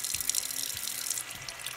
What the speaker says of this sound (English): I take my containers here and I fill them with some